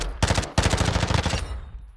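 Rapid submachine-gun fire in Call of Duty MWII's DMZ mode: a short burst, a brief gap, then a longer sustained stream of shots that tails off into an echoing decay, loud and close with no talking.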